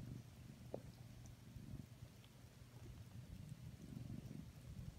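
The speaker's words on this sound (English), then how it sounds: "I hear you purring." A soft, steady low purr from a cat rumbles close by, continuous throughout with slight swells in loudness.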